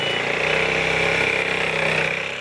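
A Piaggio MP3 500ie three-wheeled scooter, 2016 model, runs steadily with a close, even engine hum at a constant pace, no talking over it.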